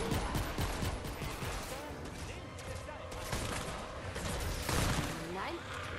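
Rapid gunfire bursts and mechanical clatter while shooting at a drum in Fortnite Save the World, moderately quiet, with repeated shots and impacts under players talking.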